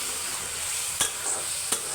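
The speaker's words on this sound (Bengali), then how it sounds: "আমার আলুটা মনে একটা সিজে গেছে, তো আমি আরেকটু ভালোভাবে কষাবো।" Fish curry with potatoes sizzles steadily in a pan as it is stir-fried, with two sharp scraping clacks of a spatula against the pan over the constant hiss.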